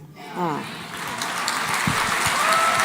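Audience applause swells in after a brief voice at the start, building into sustained clapping from a crowd at a panel talk on marriage and relationships.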